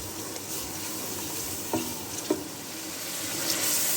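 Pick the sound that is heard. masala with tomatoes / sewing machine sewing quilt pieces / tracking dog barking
masala with tomatoes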